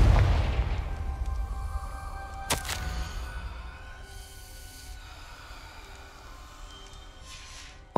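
A Confringo blast spell cast in Hogwarts Legacy gives a sharp, loud crack followed by a fading low rumble and a faint second burst, set against quiet ambient game sound.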